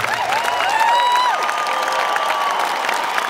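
Brief crowd applause and cheering at a concert at Spektrum in Oslo as a guest is welcomed, a steady wash of clapping with a sustained tone ringing over it.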